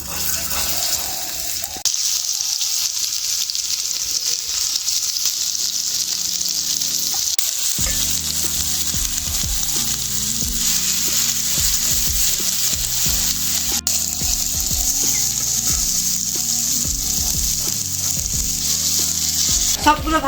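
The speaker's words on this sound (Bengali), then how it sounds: "একই রকম ভাবে বাকিগুলো ভেজে নেব।" Cauliflower florets fry in hot oil in a pan with a steady, close sizzle that runs throughout, broken by occasional scraping and stirring sounds of a spatula.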